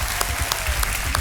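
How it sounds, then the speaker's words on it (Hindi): Studio audience applause for contestants on a TV quiz show stage, a steady dense clapping that fills the short stretch with no voices over it. "तालियां बजती रहे उनके लिए"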